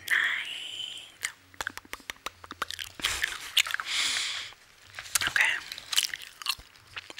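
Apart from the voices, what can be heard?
soft gum chewing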